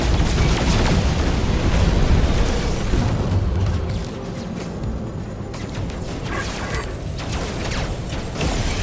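Space pirates fire on the player's ship in No Man's Sky, a dense, continuous barrage of loud booming blasts and mechanical clatter that eases slightly partway through but keeps rumbling throughout.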